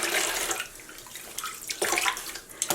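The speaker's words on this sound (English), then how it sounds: "But I know we have a lot of rinsing to do." Running water from a tap while a sock blank dyed with food coloring is rinsed, a splashing, gurgling stream that swells and fades in short bursts, close and alone.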